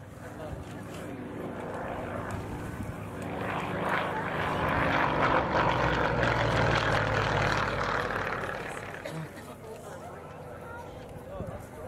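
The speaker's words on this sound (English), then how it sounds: "Landing gear down, the flaps are down, and he has slowed the aircraft as well." At the Quesnel Skyfest 2010 airshow, a propeller aircraft with landing gear and flaps down flies past at reduced speed, its engine drone swelling to a peak mid-pass and fading away, while an announcer talks over it.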